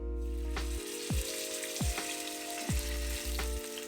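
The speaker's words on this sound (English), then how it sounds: "just stick your fish on and hear that sizzle." Loud oily sizzling and crackling as salmon skin hits a hot oiled pan, with several sharp bursts of spatter as the fish settles in; no talking.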